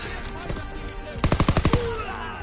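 A submachine gun fires a rapid burst of about eight loud shots in a World War II Call of Duty game, following a quieter stretch of game ambience.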